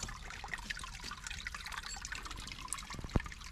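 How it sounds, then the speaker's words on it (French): Small trickle of water in a limestone quarry, a faint, continuous dribbling and splashing with one brief louder drip near the end. "Un joli petit filet d'eau là"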